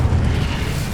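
Incendio fire spell cast in Hogwarts Legacy, a loud, dense burst of fiery rumble and roar that fills a brief moment without any pause.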